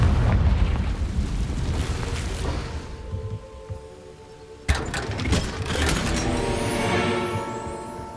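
The Confringo fire spell going off in the Hogwarts Legacy video game: a loud booming blast with a crackling rumble that fades, then a second sharp burst followed by a ringing, shimmering tail, with no talking.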